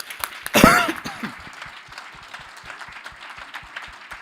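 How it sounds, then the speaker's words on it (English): At a sommelier championship, the audience gives steady, moderate applause after a round, with a brief cough or throat-clearing near the start. "Give them a big applause."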